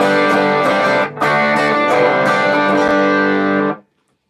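A sustained electric guitar through a Soul Food overdrive pedal rings out loud with a brief dip near the start, then cuts off sharply into silence.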